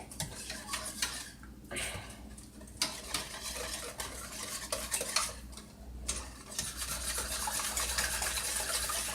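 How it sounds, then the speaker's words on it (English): Evaporated milk pudding mixture for old-fashioned banana pudding stirred in a pot over medium heat, a spoon scraping and clinking rhythmically against the pot with soft bubbling beneath, close and fairly quiet. "the key is we got to keep stirring this until it starts"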